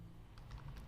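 Code is typed on a computer keyboard in a quick run of soft, close keystrokes over a low background hum.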